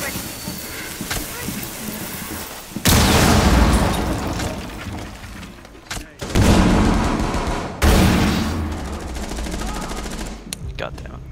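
Breaching charges blow open a wall in Rainbow Six Siege, with several loud, close blasts and rumbling debris in separate bursts, plus gunfire and game noise among them.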